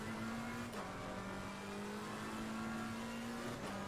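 A McLaren 720S race car in Assetto Corsa Competizione at Kyalami, its engine droning loud and steady at high revs, with a couple of brief dips like gear shifts before it holds its note again.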